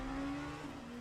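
Race car engine in the Spa 24-hour sim racing game, a steady loud drone holding one pitch with a slight shift near the end, no talk over it.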